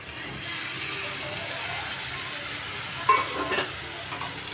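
Eggplant is tipped into hot spice masala in a pan, giving a steady sizzling hiss with a brief louder burst of scraping and stirring.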